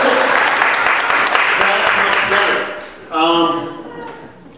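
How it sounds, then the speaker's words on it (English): Audience clapping for a state representative candidate at a campaign event, a burst of applause from a modest crowd that fades after a few seconds, followed by someone speaking. "You're supposed to clap"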